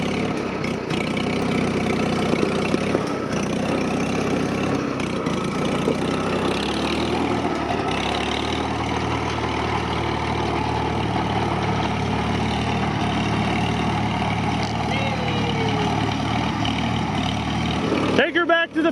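An old tractor, abandoned for about 20 years, idles steadily after a hot start while belching black smoke, its low engine rumble running continuously throughout, with people talking over it.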